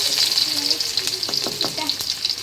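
Onions tipped into hot frying oil for special noodles, a loud, close, continuous sizzle and crackle with brief scraping stir sounds partway through, and no voice heard over it.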